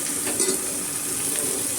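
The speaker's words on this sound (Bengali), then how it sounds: "কড়াইতে প্যান বসিয়ে দিয়েছি এইটা এই পেঁয়াজগুলো আমি সব এর মধ্যে দিয়ে দেবো" Onions hitting hot oil in a kadai give a dense, loud, steady sizzle that runs unbroken and close, with no speech over it.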